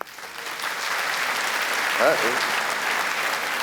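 Comedy club audience applauding during a stand-up set, a steady bed of clapping throughout with a voice briefly calling out over it.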